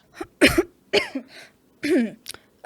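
Two to three short bursts of coughing and throat clearing in a quiet room, close to the microphone, separated by brief pauses with a trailing rasp.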